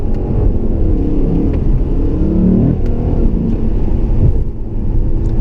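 A Lexus RC F's high-revving engine climbs loudly through the gears, the roar sweeping up in pitch, then dropping sharply at each bang shift before pulling up again, heard from inside the car.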